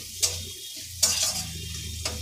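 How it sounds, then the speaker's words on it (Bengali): Masala fried in oil in a pan until the oil separates, steady sizzle broken by three sharp scraping stirs of a spoon against the pan, close up, no talking. "মশলাটা ভাজা হয়ে গেছে, তেল ছেড়ে দিয়ে দিয়েছে।"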